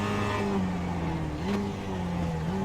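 A production race car at Summit Point, simulated in simlab, revs loud and close with a buzzing engine note that dips and climbs again at each quick gear change.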